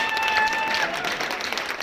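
Loud applause from a standing audience welcoming guest B.L. Desai at a gathering, a brief burst of dense clapping with a thin tonal whine over the start.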